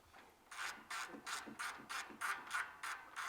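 A ratchet backs a bolt out of a 3rd-gen Toyota Tacoma's front bumper during a hybrid bumper install, giving steady repeated clicking bursts in a regular rhythm, close and clear with no talking.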